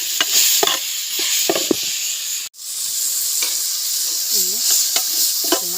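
Cut eggplant frying in a pan for a fish curry, with steady sizzling and stirring scrapes throughout, a brief dip near the middle, then continued sizzle with stirring strokes.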